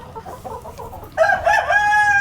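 Desi hens cluck at an egg farm near Patiala, then a rooster crows loudly and close by, its long drawn-out call filling the second half.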